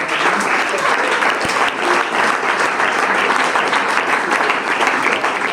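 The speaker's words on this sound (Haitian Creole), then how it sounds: "donc on a applaudi Josué" Audience applause fills a holiday celebration hall, a steady, dense wash of clapping from many hands that holds at an even loudness throughout.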